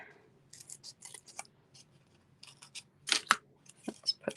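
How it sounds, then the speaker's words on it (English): Paper for a handmade pop-up gatefold birthday card is snipped with scissors in a quiet room. Several short, sharp crisp cuts come at an irregular pace, with brief rustles between them and no talk over them. "And then we're going to cut that."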